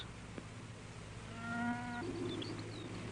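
A cow moos once in a radio drama, a drawn-out low call that swells and then shifts pitch, heard alone against a quiet, faintly hissing background.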